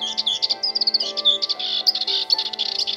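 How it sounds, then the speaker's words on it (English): A Dartford warbler on heathland delivers a fast, scratchy song of rapid chirps and trills, loud and close, with continuous warbling phrases and no voices. "the rare Dartford warbler has also survived a hard winter on the heathland"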